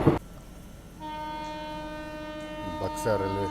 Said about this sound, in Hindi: अच्छे रफ्तार में यहाँ पे निकल रही है कोई ट्रेन।